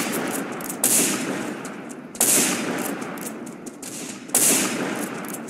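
Sustained automatic gunfire from a first-person shooter, Line of Sight, pours into a wall as a dense, loud rattle, with a sharp, heavier surge of shots roughly every one and a half seconds.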